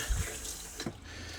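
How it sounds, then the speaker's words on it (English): Water runs steadily from an RV faucet fed by the onboard water pump, a soft continuous rushing stream with a brief splash partway through. "I got the water running with no problem"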